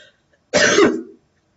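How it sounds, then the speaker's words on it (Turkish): A single short, rough cough, close and fairly loud, with silence before and after. "Çok öksürüyorum ya."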